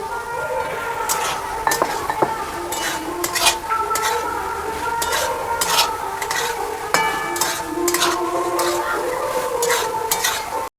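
Fried ivy gourd is stirred into a sizzling spice masala in a pan, with a steady frying hiss under frequent close, rhythmic scrapes and clinks of a metal spatula against the pan.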